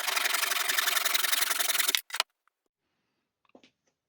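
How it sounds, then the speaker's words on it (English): Wood is hand-cut for dovetail joints on a small pochade box, a close, steady rasping saw stroke for about two seconds, then a brief scrape followed by near silence and a couple of faint taps. "Now I'm cutting dovetail joints for the box"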